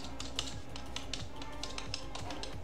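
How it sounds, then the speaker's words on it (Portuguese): A password being typed on a computer keyboard, a steady run of close, quick key clicks throughout. "Então, vou entrar com a minha senha aqui."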